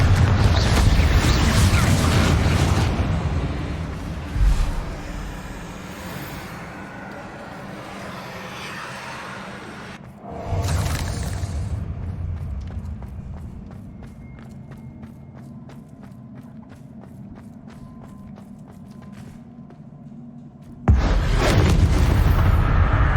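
Confringo blasting spells explode in Hogwarts Legacy, three heavy booming bursts spaced several seconds apart, each followed by a fading rumble and quieter footsteps and ambience between them.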